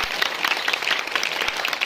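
A short burst of dense, steady applause from a school crowd at an Independence Day event, fairly close and loud throughout.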